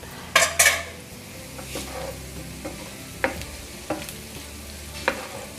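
Aloo pyaaz sabzi of potato and onion is stirred as it fries in a pan, a low sizzle broken by several sharp metallic spoon scrapes and clanks, close by and with no speech.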